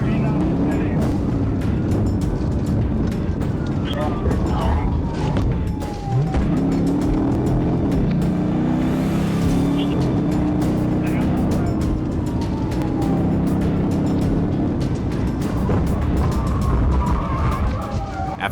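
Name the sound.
car speeding in high-speed police pursuit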